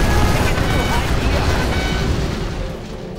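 A heavy, roaring blast of inferno cannon fire in C&C Generals Zero Hour rumbles continuously and loudly, fading slightly toward the end.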